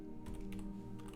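A few faint keystrokes tap on a computer keyboard, brief soft clicks barely rising above a steady low electrical hum.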